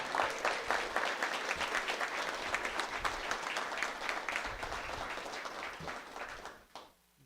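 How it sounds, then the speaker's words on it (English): Sustained audience applause at a swearing-in ceremony for a Veterans Affairs secretary, dense and steady for about six seconds before tapering off and stopping near the end. "Let's give him one more round of applause."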